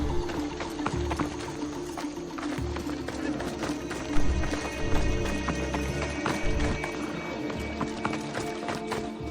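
Horse hooves gallop in Assassin's Creed Odyssey, a steady run of clip-clop beats under a dense game soundscape of music and ambience, moderately loud and continuous throughout.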